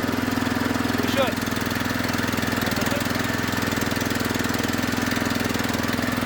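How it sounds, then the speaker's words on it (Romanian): Engine of a Ruris 918K walk-behind tractor on electric start, turning over into a steady idling drone that runs loud and unbroken throughout, with a voice briefly heard over it. "Asta e pornirea la demarou."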